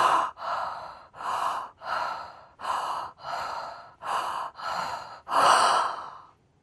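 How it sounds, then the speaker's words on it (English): Holotropic-style deep breathing, a steady cycle of about eight forceful breaths in and out through the mouth, each a loud rushing breath close to the mic, separated by brief gaps and ending on a longer, stronger exhale. "we'll just do a holotropic type breathing, which is basically just in and out"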